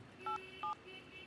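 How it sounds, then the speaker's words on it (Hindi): Two short electronic keypad tones from a phone dialing a call, evenly spaced and fairly quiet over a low room hum, in a Hindi action film scene. "चल एमडी को फोन लगा।"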